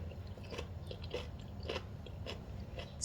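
Crunchy bites into warm boiled okra topped with crispy fried garlic, several close, sharp crunches and chewing sounds spaced out over a quiet background.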